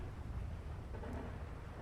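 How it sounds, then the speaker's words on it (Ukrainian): A thunderstorm in GTA 5 running the Redux graphics mod gives a steady low rumble under dense rain hiss, a continuous wash of storm noise with no voices. "О, класна гроза просто."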